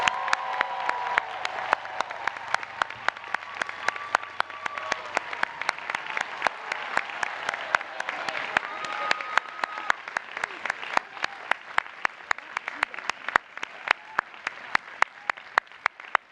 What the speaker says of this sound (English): Please, another round of applause for the class of 2026.